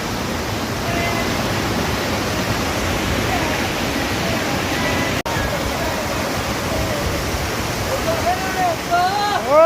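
A small waterfall in Bijanbari, Darjeeling pours in a steady, loud rushing wash up close, with a brief knock midway and faint voices and chirps near the end.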